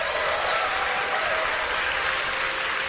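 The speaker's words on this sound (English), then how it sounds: "Give Matt a big round of applause." A rally crowd applauds continuously at full, dense volume for the whole stretch, with no voices rising above the clapping.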